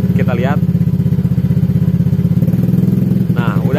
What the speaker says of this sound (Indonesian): Sekarang kita coba buka gas sedikit, kita lihat.